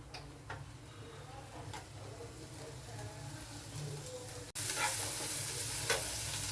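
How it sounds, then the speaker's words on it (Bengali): Vegetables sizzle in butter on a hot tawa, a steady crackling fry with light stirring clicks, growing louder and brighter near the end as more chopped vegetables hit the pan. "এবার 1 চামচ বাটার দিয়ে তাওয়াতে সব সবজিগুলো দিয়ে দেব"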